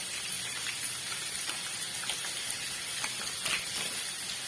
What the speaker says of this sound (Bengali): গ্যাসটাকে লো ফ্লেমে রেখে আলুগুলোকে একটু ভালো করে ভেজে নেবো।